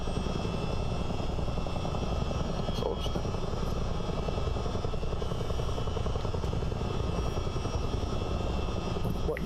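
A Chinook CH-47 twin-rotor helicopter in Microsoft Flight Simulator drones with a continuous rhythmic rotor chop and engine whine, loud and unbroken, with a few faint clicks.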